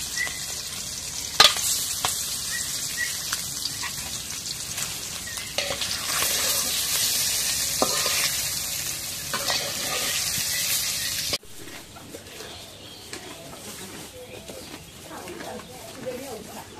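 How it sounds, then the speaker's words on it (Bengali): Eggs sizzle as they fry in oil with turmeric powder in a kadai, with occasional stirring scrapes. The frying is steady and close, then gets quieter toward the end. "এখন ডিমগুলো তেলের মধ্যে ভেজে নিই।"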